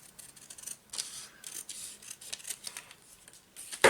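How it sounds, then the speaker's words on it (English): Scissors snip through a journal card in a series of quick, crisp cuts with short pauses between them, close and fairly quiet, with no talking. "bite the bullet, cut it in half"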